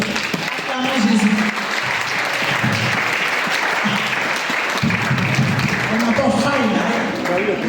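A church congregation applauds steadily in worship, with cheering mixed into the clapping and a voice speaking or calling over the noise throughout.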